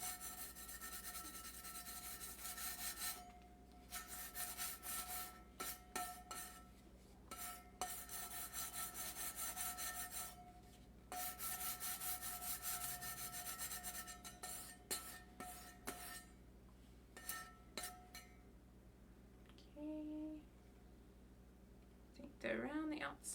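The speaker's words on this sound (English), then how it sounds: "I'm just sanding my cup. Not super hard." Sandpaper rubbing by hand over a painted tumbler cup to take off its clear coat, light scratchy strokes in bursts with short pauses, close and fairly soft, with a voice speaking briefly.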